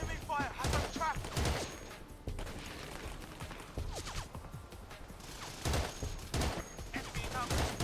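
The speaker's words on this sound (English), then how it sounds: "Reacting to heavy enemy fire." Heavy gunfire in the Xbox war game Battlefield 2: Modern Combat, with repeated loud bursts of shots and crashes that come in clusters amid constant battlefield noise.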